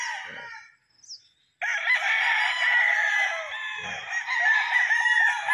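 Gamecock roosters on a game farm crow loudly and close by, with a short call followed by a long, sustained crow after a brief pause.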